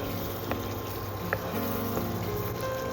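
Onion paste sizzles and bubbles with cumin seeds in a pan for egg masala curry, a steady close frying hiss with a few soft pops and stirring knocks, no talking.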